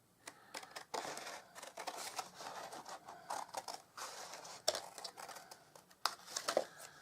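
Scissors cut paper while a window gift bag is being made. Quiet snips and crisp paper crinkles come close up in an irregular rhythm, with a few sharper clicks standing out.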